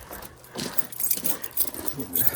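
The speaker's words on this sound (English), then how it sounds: "Gotta get my keys out." A bunch of keys jangles as it is pulled out near a garage, a short, close metallic rattle in quick irregular bursts, with a voice present in the background.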